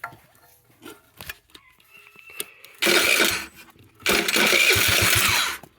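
A small dirt scooter engine with the choke on sputters to life in two loud bursts of running, each cutting off, after quiet clicks and handling sounds.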